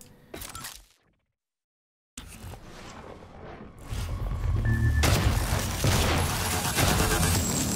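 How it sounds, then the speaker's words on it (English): A shotgun fires in Prey. A brief burst of sound drops into silence, then returns as rising noise that builds into loud, sustained blasts and roaring noise toward the end. "we're just going to have to bust out the shotgun straight away"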